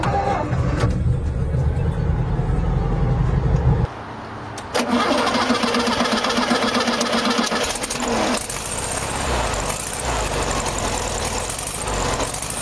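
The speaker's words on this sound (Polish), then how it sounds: "Charakterystyczny dźwięk odpalania boksera sprawia, że nawet z zamkniętymi oczami można rozpoznać ten klasyk." A Volkswagen Beetle boxer engine cranks and catches, then settles into a steady, slightly uneven idle with a brief dip in the middle; no voices.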